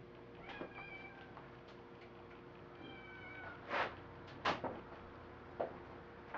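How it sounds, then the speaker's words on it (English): A cat meows indoors in a kitchen, several rising calls spread across the stretch, with a few sharp bumps like a cupboard or drawer in between; fairly close, no talking. "Where is that cat?"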